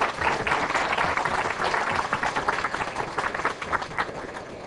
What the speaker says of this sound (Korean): 주님께 박수.